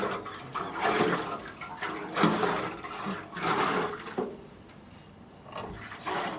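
Rust-colored water rushes out while an old, long-sitting generator is flushed, a steady, loud gush with surging swells and no talk over it.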